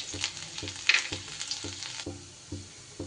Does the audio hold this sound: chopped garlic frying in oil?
yes